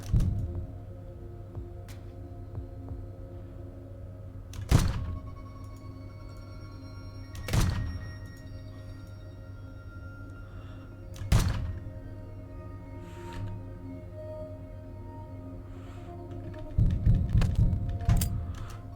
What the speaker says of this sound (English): I just shoot multiple guns downward